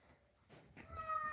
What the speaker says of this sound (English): Oh, mournful meows.